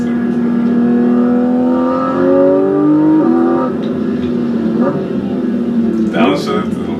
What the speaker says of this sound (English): Like, the engine really has a good tone. Like, damn. Perfect shifting.